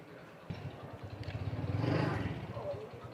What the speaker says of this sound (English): But you got motorbikes driving down here.